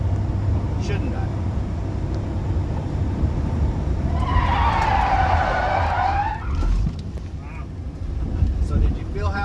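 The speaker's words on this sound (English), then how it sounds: "the front tires are going to continue to spin to try to go in a straight direction" Car tires squeal as a patrol vehicle is spun in a police PIT maneuver at a Texas DPS tactical driving course. A loud, wavering screech lasts about two seconds over constant engine rumble and wind buffeting.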